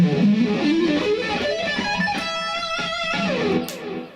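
An electric guitar plays a diagonally ascending shred run, a fast continuous stream of distorted notes climbing upward, loud and alone for about four seconds.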